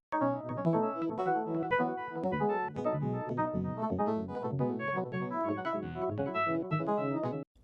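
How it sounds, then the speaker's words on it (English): Yamaha DX7 arpeggio run through a pitch-shifting effect, a dense, shimmering stream of rapid bell-like synth notes with smeared, doubled tones, steady and loud throughout. "It's going through Ableton's shifter"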